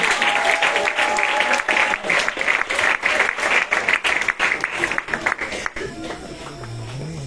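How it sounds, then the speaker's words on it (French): An audience claps for the children at a two-year anniversary celebration, producing sustained, dense applause with uneven bursts that fades out after about five seconds. "On acclame encore pour les enfants."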